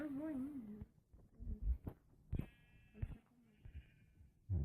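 A sheep bleats once in a survival video game, a short wavering cry at the start, then light clicks and thumps from the game follow.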